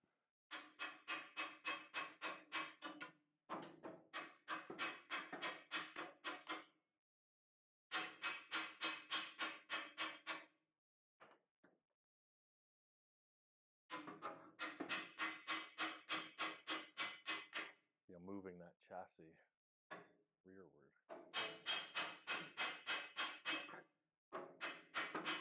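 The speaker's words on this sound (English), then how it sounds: "get my big hammer" Big hammer striking metal on the front suspension of a 1937 Lincoln Zephyr, bursts of rapid ringing blows with short silent gaps, plus a brief grinding or squealing passage near the end.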